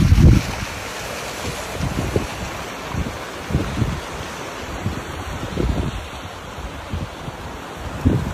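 Rushing water at the top of a first waterfall out in nature, a steady broad roar with gusting wind buffeting the microphone in low thumps throughout.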